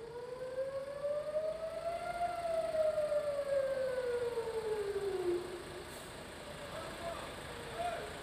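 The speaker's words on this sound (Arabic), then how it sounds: "صفارات الإنذار في حيفا، في نهارية، في الجليل الأوسط، في الكريوت" Civil defense air raid sirens sound in Haifa during rocket fire from southern Lebanon: a loud, sustained wail that rises, holds, then slowly falls, over a steady rumble of distant traffic.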